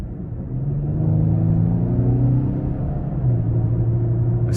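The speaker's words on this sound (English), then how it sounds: "Gonna give it a little throttle here." A 2021 Lincoln Aviator Grand Touring 3.0 accelerates on the road, a steady, fairly loud engine rumble with rising tones heard from inside the cabin, with no talk over it.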